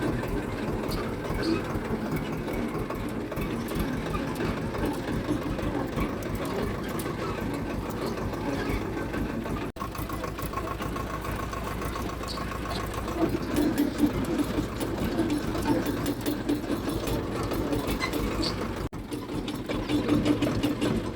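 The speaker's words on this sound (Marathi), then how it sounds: "आता मी लगेच ट्रॅक्टर घेऊन निघणार शेतात जाण्यासाठी" A tractor engine heading out to a harvested sugarcane field, running as a continuous close rhythmic chug that holds steady for the whole stretch and grows slightly louder partway through.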